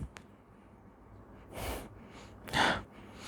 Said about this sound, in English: let me give you a final sniff